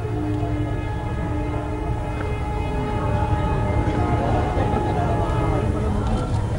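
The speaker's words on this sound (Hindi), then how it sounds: "ये भोंपू जाने दीजिए जरा।" A long, sustained train horn blares continuously through a political rally in Hapur, a steady tonal drone layered with crowd and background noise for several seconds.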